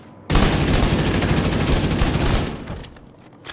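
Sustained rapid automatic gunfire from The Division 2 roars loud and close for about two seconds, then tapers off into fading echoes and quiet.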